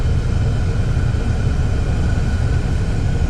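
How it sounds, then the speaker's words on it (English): A Chevy Cruze 1.4 turbo radiator cooling fan runs during a scan tool active test, giving a steady, loud, continuous low whooshing roar with constant level and no breaks. "Cooling fan, here we go."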